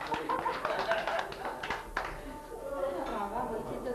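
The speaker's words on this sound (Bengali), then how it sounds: "হাততালি দিয়ে দাও" A small child claps hands at home, a quick run of light taps under an adult's coaxing voice that keeps talking throughout.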